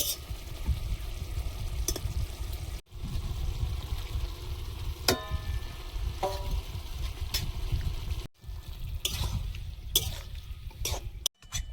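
Fish and potato curry stirred in a frying pan: a low, steady sizzle with scattered scraping and clinking strokes from stirring, alongside a few brief sharp knocks and short pauses.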